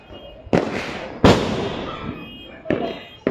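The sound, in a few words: Diwali firecrackers bursting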